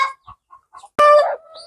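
Indigenous free-range chickens on a farm, clucking in short bursts before one bird lets out a loud, sharp squawk close by, with no one talking.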